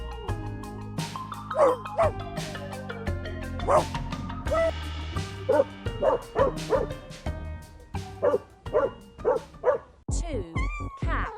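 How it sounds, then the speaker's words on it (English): A happy dog barks repeatedly, bright yips and bow-wows coming in quick uneven bursts with a few whimpery notes, close and clear, separated by short pauses. "Let's hear a happy bark."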